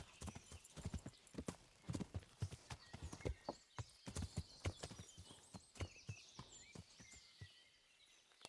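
Horse hooves clip-clop in a steady walking rhythm in the medieval video game Kingdom Come Deliverance, fairly faint and close, with soft bird calls in the background.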